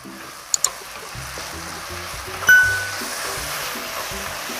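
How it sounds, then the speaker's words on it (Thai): Mixed mushrooms stir-fried with seasoning and a little sugar in a pan over heat, giving a soft steady sizzle with a couple of sharp utensil clinks near the start and a brief scrape midway. "แล้วก็ผัดคลุกเคล้าวนไปค่ะ ให้เครื่องปรุงนัวกับตัวเห็ดเลยนะคะ"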